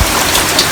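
Heavy rain pours down in Jamaica during a tropical storm, a dense, loud, steady hiss of falling water with no break and no voices.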